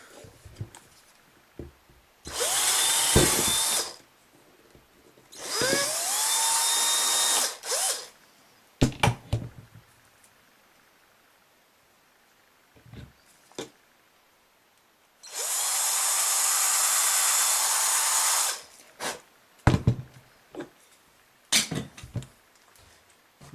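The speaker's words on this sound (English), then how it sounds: "so you can drill that out." A power drill bores out a hole in a plastic game controller, three loud whirring bursts of a few seconds each, separated by clicks, taps and handling noises.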